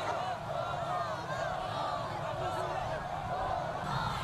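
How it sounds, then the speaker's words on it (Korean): A large crowd lining streets in Pyongyang roars and cheers continuously, a dense wash of many voices shouting at steady volume from start to finish. "군중들은 조국 통일 평화 번영이라고 외치고 공화국기와 통일기 꽃다발을 흔들며 열광적인 환호를 올렸습니다"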